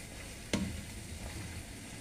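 Eggplant stir-fries in a pan with dark soy sauce, a faint, steady sizzle with one brief clatter early on as the food is stirred.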